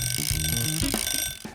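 A cheap $10 kitchen timer rings, a loud, continuous electronic alarm with bright steady tones that sounds alone and fades out right at the end.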